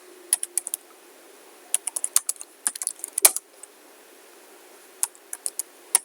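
Fingers tap on a computer keyboard while text is entered in PowerPoint, near, crisp key clicks in short irregular bursts separated by quiet pauses, with no voices.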